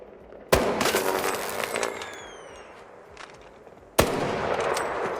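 Sharp gunshots in a video game ring out, two loud, separate bursts a few seconds apart, each with a bright crack followed by a trailing echo and faint clatter.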